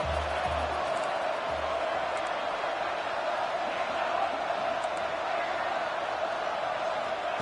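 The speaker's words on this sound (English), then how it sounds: "Crowd trying to help out here on fourth down." Stadium crowd in a football video game roaring steadily through a fourth-down play, a dense sustained wash of cheering with no pauses.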